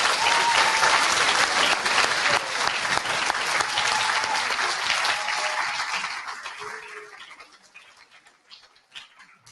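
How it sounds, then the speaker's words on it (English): Applause fills a school assembly hall at an end-of-term gathering, dense and sustained for several seconds before thinning out and fading to scattered claps near the end. "So I think they deserve another round of applause."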